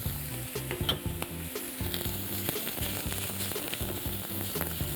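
Meat sizzles loudly and steadily in hot olive oil in a pan for stir fry, a dense continuous crackle with occasional sharper pops close by and no talking.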